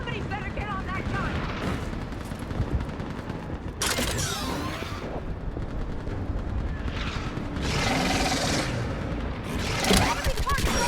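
Heavy gunfire from a mounted gun in the video game Mass Effect 3 during a battle on Thessia, dense and continuous with loud bursts and explosive blasts, mixed with game voices and battle noise.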